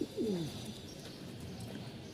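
Pigeons kept for breeding give a couple of soft, throaty coos at the start, fairly near, then only a quiet room hum remains.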